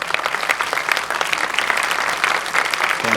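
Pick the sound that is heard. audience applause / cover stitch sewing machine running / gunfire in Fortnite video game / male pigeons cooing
audience applause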